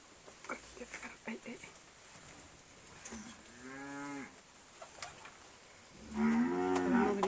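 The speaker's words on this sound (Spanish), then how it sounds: "Fede, espérate para ahorita que se vengan las vacas." Several cows moo, with long low calls, one in the middle and a louder one near the end, amid faint voices and rustling.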